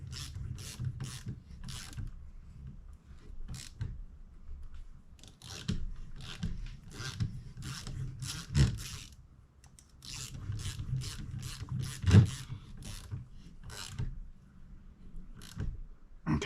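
A tap and ratchet cut threads into a steering box for hydro assist, giving repeated quiet clicking ratchet strokes in uneven bursts with short pauses and occasional metallic knocks, close and faint.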